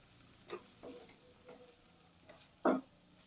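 Green masala paste frying in a pan for a sea prawn sukka, heard as a faint, low sizzle broken by a few soft stirring scrapes and one louder scrape near the end, with no voices.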